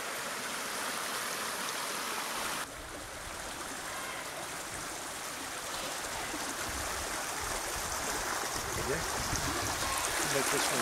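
Steady rushing water of a hot waterfall at Kerosene Creek, loud and continuous, filling the scene with broadband hiss and low rumble.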